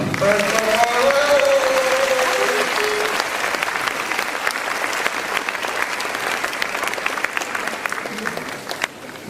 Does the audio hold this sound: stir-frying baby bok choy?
no